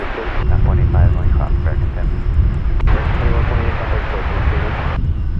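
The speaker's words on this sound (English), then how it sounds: "So the Queen of the Skies is scooting across runway 18 right." A Boeing 747 taxiing across a runway at DFW Airport, its engines giving a loud, steady roar, while a radio voice briefly talks over the noise.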